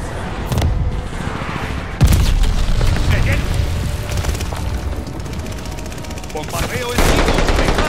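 Heavy explosions and rapid gunfire from a Call of Duty: Vanguard battle with glide bomb bombardment, booming blasts near the start, middle and end over a constant roar of automatic weapons and battlefield chaos.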